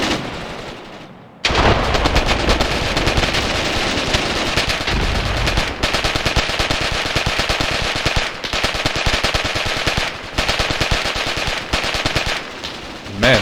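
Machine gun fire in the war game Graviteam Tactics, with long rapid bursts and dense overlapping gunfire after a quiet opening, broken by brief pauses and the occasional louder shot.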